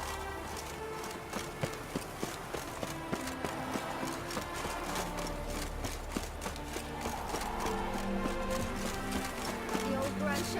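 Horse hooves clip-clop in The Witcher 3 video game, a steady, regular run of hoof beats under game music and ambient sound, with voices talking over them.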